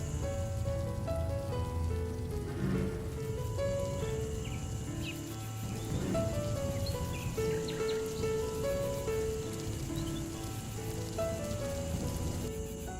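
Steady rain patters across a surface while soft, sustained melodic tones play over it.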